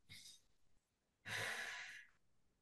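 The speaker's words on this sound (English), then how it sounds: "3 nose breaths" Two slow nasal breaths during a relaxation exercise: a soft inhale through the nose, a pause, then a longer, louder airy exhale, close and otherwise quiet.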